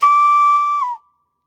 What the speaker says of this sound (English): as I'm blowing my hand whistle, everything's tight, but there's one hole